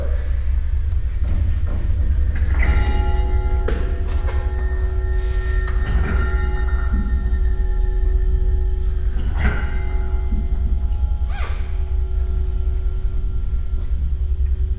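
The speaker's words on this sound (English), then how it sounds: "So right now we just ring the bell 3 times" The bell at Polly's Chapel is struck three times, each strike ringing out with a lingering metallic tone over a constant low rumble.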